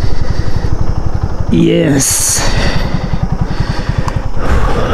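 A motorcycle idles with a steady low, throbbing engine pulse as it is parked in a car park at a tourist site in Khulna, with a louder rev near the middle and a person talking over it.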